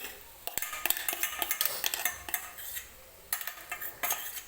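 Spoon scrapes and taps against a kadhai as ground fresh coconut for barfi is stirred, in irregular bursts with a short pause midway, close and moderately loud.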